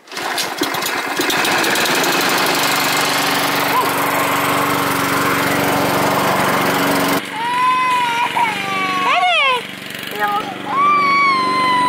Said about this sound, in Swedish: Var du rädd för gräsklipparen?